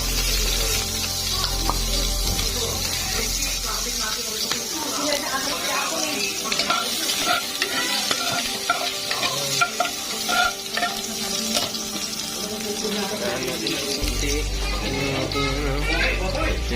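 Ginger and garlic dropped into hot oil, giving a busy, close sizzle with stirring and clatter of a utensil, while a person talks over it throughout.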